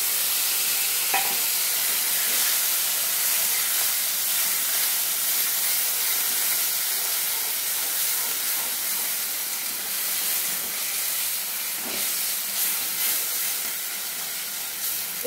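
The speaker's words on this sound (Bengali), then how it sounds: "আমি এবার চিকেনগুলো দিয়ে দিলাম।" Chicken pieces for chicken rezala, coated in spices and yogurt, dropped into a hot pan and sizzling, with a steady loud hiss of frying throughout and occasional stirring clatter.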